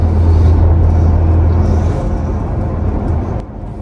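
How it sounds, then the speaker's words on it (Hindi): Heavy road traffic at night in India makes a loud, steady low rumble of engines close by, easing slightly near the end, with no voices. "ट्रैफिक बहुत है रात को 12 बजे भी"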